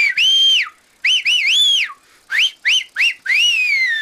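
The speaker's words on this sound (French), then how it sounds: "j'adore siffler." Shrill referee whistle blasts sound in quick bursts, some short and some drawn out, each bending up and down in pitch, loud and close with no talking.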